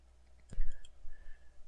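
A computer mouse clicks a couple of times in quick succession, sharp and close, over a quiet room hum with no talking.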